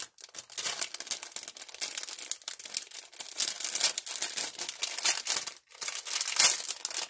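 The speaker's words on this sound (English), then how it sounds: "Sorry for all the crinkling. They've got it double packaged." Double-layered plastic packaging being handled and opened, producing close, continuous crinkling and rustling in uneven bursts with brief pauses, no talking.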